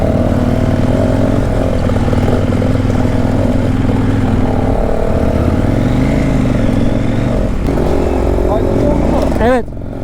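Kove 800X Pro adventure motorcycle on rough off-road terrain at an enduro park, its engine droning loudly and steadily with shifting pitch as the throttle changes, close up under wind noise.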